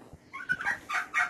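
A large male standard bronze turkey, a cross bird, gives a short series of nasal calls, rising in a few quick bursts close to the microphone with no talk over them.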